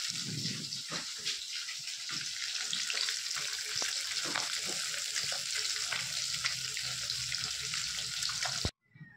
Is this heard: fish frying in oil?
yes